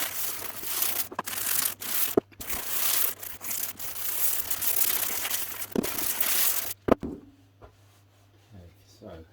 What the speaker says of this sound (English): I might get a bit of 80 grit on a block and rub this down actually